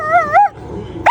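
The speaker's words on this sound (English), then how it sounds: "Stop your barking." A dog barks and yips twice in quick succession inside an RV, then gives a higher whining yelp, close and fairly loud.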